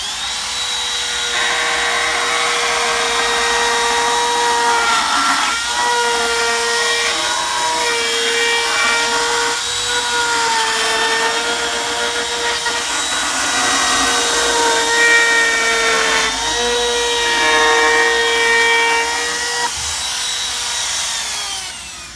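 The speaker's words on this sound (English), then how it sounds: "We're going to keep our router moving in a counterclockwise direction" A router trims an oversized laminate end cap flush with a countertop surface, producing a steady, loud high-pitched whine with a sustained tone that continues without a break.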